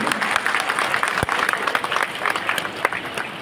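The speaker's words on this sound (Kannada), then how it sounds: "ಒಂದು ನಿಮಿಷ ಚಪ್ಪಾಳೆ ಹೊಡಿಬೇಕು ನೀವು" An audience at a student prize-giving ceremony breaks into sustained, dense applause, many hands clapping together with a few sharper claps standing out.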